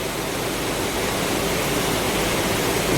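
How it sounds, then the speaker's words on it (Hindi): Ramganga river near Marchula in Jim Corbett flowing swollen during heavy rain, a broad, steady rushing roar close by and constant throughout. "ये रामगंगा रिवर है"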